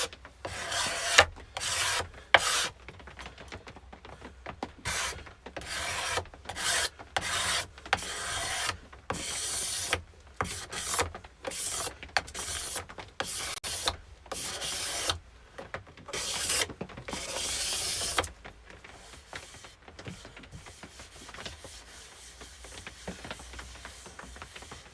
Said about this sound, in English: we can pretty much get near finish ready with the cabinet scraper